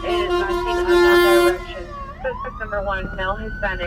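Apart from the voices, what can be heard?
ambulance siren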